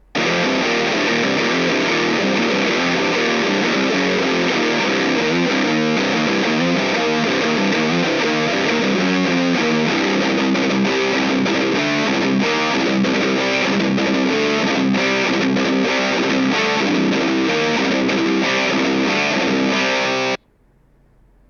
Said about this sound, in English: let's listen to the Bugera with the Uberschall Distortion pedal